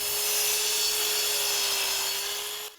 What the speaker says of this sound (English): an electric saw is buzzing.